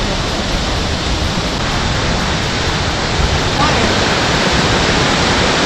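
Waterfall roaring steadily on a hike, a loud, dense broadband rush of falling water that stays constant and close throughout.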